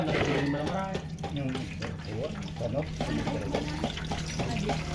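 Steady rushing and splashing of water flowing through and draining out of a flood-submerged Yamaha Sniper 155 motorcycle engine, dirty water, continuous for the whole stretch, with a voice talking over it.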